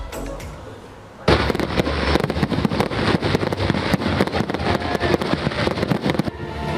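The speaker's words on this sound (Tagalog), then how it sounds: "muling binuksan ang pasiklaban sa mga nagkagandahang fireworks display" Fireworks at the Philippine International Pyromusical Competition over Seaside Boulevard, Pasay, burst in a dense, continuous barrage of crackles and pops after a quieter opening, loud and sustained until the end.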